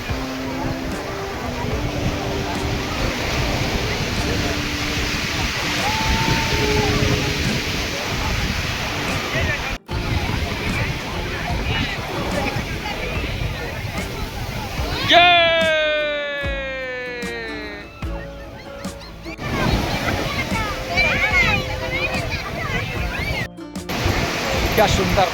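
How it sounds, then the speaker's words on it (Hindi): Sea waves breaking on the beach at Puri in Odisha, a continuous washing surf roar with wind, interrupted partway by a bright chirping tone sweep, with the surf returning afterward. "मेरे साथ देखिए समुद्र की लहरें।"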